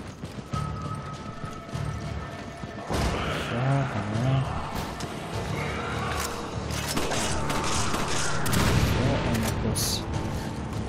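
Gunfire in the video game Resident Evil 5, with repeated shots and booms amid dense game action and a voice talking throughout.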